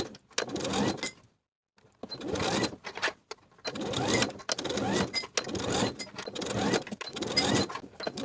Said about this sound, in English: Now I can sew my first tier to the bodice all the way around with a 1/2 inch seam allowance